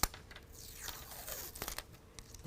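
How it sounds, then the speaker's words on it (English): A sticker peeled off the right-side rail of a BAK Revolver X4s tonneau cover on a 2021 Ford F-150, a quiet ripping and crinkling strip with small crackles, faint and close. "We're going to go ahead and peel that sticker off"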